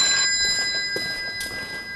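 An old-fashioned telephone bell rings continuously, a shimmering metallic ring with faint pulsing bursts, moderately loud with no one talking.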